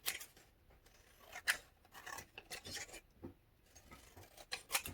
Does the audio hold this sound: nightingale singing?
no